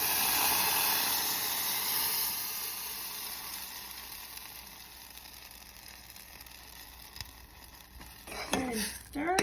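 Blended spicy homemade salsa hisses and sizzles as it hits hot oil in a pan, a loud burst at first that settles into a steady, softer frying hiss, with a few clatters and a brief voice near the end.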